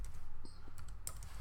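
A few quick keystrokes on a computer keyboard, soft and close, over a steady low background hum, with no voices.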